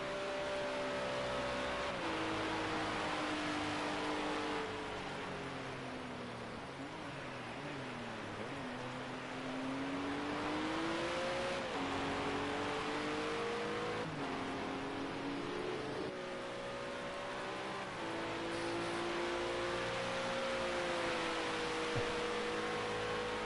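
GT4 Cup race car engines droning in a video game race at Setterton GP, a continuous tonal engine note rising and falling through gear changes, with no speech.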